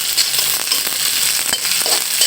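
Chopped onions hitting hot oil in a pan, a loud close crackling sizzle with a few stirring scrapes, continuous throughout with no voice.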